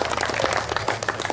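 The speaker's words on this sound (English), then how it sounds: "Please give another round of applause for Tanur Ali for such a great poem." An audience applauds a poet after a poem at a community garden gathering, a steady patter of clapping from a modest crowd that holds through the moment without a break.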